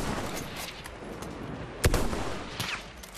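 A single sharp sniper rifle shot cracks out in the middle of Battlefield 1 gameplay, standing above a steady bed of distant battlefield noise and scattered fire.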